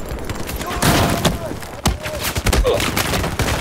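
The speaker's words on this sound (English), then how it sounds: "that was I had just unlocked the M240. That was the first burst I used." A burst from an M240 machine gun in the video game Battlefield 4, a dense rattle of rapid shots and thuds under ongoing battle noise, with voices faintly present.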